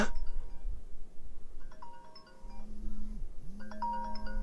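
A smartwatch find-my-watch alert plays a short series of electronic chime tones, clear and near, with a sliding tone midway over faint background rumble.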